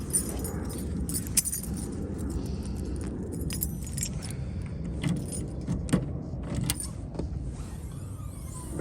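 Keys jangle in bright metallic bursts while the trunk of a 1979 Chrysler New Yorker 5th Ave is opened, with a low mechanical rumble underneath and no talking.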